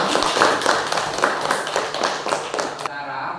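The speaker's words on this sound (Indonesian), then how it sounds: "Oke, beri tepuk tangan dulu." A classroom of pupils claps along with their teacher, a rhythmic patter of hands with fairly regular beats and voices mixed in, ending abruptly.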